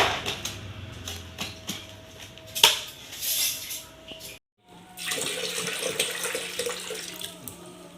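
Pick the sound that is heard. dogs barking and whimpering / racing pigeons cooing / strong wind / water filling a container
water filling a container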